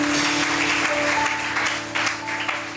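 Church congregation acclaiming the Lord with a steady wash of cheering and applause, loud and continuous, with sustained music tones running underneath.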